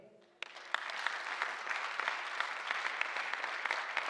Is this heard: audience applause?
yes